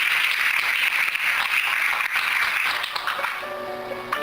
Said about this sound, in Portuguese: Você pode aplaudir o Senhor com alegria